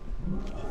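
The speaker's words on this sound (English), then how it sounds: "What is that noise? A lion." A lion roars at a wildlife reserve in England, a low rumbling growl heard at a distance under steady background noise.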